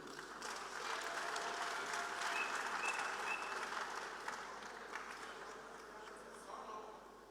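A conference crowd applauding to welcome a speaker at a national training and orientation event, with dense, even clapping that fades slightly toward the end and a faint voice underneath.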